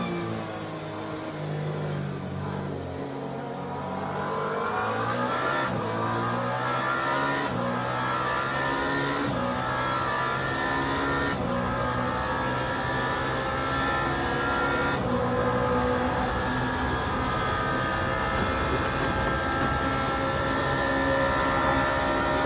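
Race car engine heard from inside the cockpit in the Le Mans Ultimate racing game, a steady loud roar climbing and falling through gear changes with revving pitch sweeps, continuous throughout with no talk.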